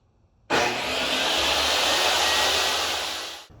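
Table saw ripping wooden boards into 3.5-inch strips for cornhole boards: a loud, steady broadband whine of the blade cutting through wood, starting abruptly and holding for about three seconds before cutting off, with no talk.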